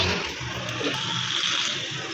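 Water poured into a dish set out for pigeons, a steady close splashing trickle that runs continuously for a couple of seconds.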